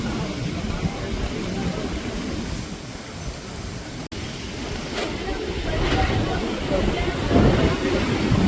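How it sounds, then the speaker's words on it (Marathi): Very strong wind on an open road roars steadily as dense, rumbling noise, with gusts swelling louder toward the end and buffeting the microphone. "खूप जोरदार वारा आहे, खूप जोरदार."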